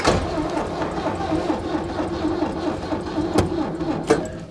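The starter of an old diesel Mercedes turns over slowly on a weak battery, making a steady labored whirring drone with a couple of sharper clicks near the end.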